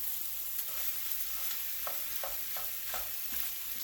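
Pork fried rice crackles in a hot pan with a steady low sizzle, broken by a run of soft, evenly spaced scraping stirs near the end; no one speaks.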